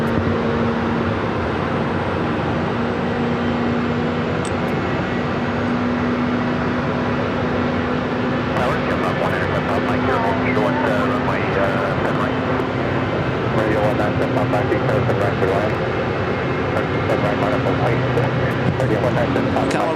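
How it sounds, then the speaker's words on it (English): An Air Canada Airbus A320 jet departs Phoenix airport, its engines a steady broad roar with a low hum running throughout, loud and continuous from start to finish with no pauses. "Have an Air Canada A320 heading back to Vancouver."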